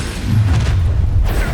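A Confringo fire spell explodes in Hogwarts Legacy, giving a dense low boom that swells and rumbles steadily for over a second, loud and close.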